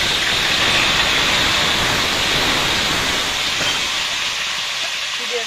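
Pointed gourd dropped into hot oil in a kadai gives a loud, steady hiss of sizzling. It runs without a break and eases slightly toward the end.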